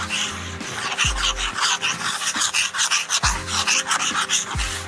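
Rustic lumber is hand sanded with 100 grit sandpaper in quick back-and-forth rasping strokes, a steady rhythmic scratching close to the ear with brief knocks between passes.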